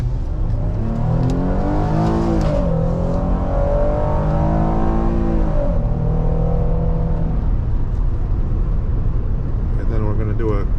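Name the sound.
2015 Ford Explorer Police Interceptor Utility accelerating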